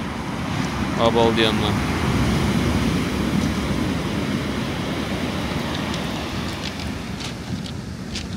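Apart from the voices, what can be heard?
stormy sea waves crashing against pier supports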